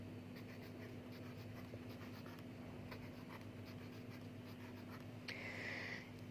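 A marker or chalk scratching out squares on a board during a junior maths lesson on regrouping for addition, soft repeated strokes over a steady low hum, faint and close, with no talking.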